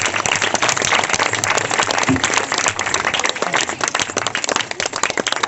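Audience at a Christmas church gathering claps to welcome a guest, a close, busy patter of many hands with sharp individual slaps standing out, continuous throughout and fading slightly near the end.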